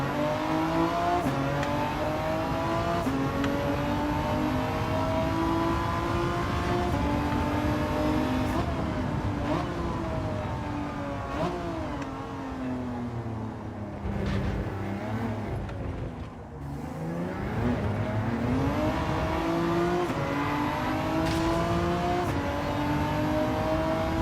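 A BMW M2 race car with balance of performance switched off screams through gears in Gran Turismo 7, its engine note climbing and dropping in steady sweeps, a brief lift around a braking zone, loud and continuous with no talk.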